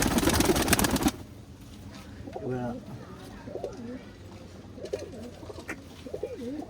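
Rare-breed pigeons coo in soft, repeated bursts at close range after a brief loud noise at the start, with faint background sounds throughout.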